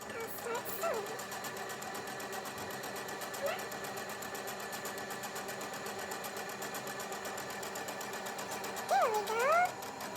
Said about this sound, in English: Okay, so now I'll start sewing.